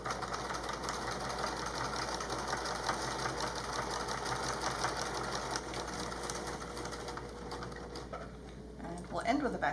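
A sewing machine runs steadily while stitching along the crease between a fabric mask piece and its channel, a continuous mechanical whir with a faint rapid needle patter throughout, slowing near the end.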